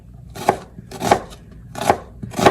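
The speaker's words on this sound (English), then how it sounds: "And then we're gonna cut the other onion up like so." A knife chops through an onion on a board in four distinct, evenly spaced thuds, close and clear with quiet pauses between cuts.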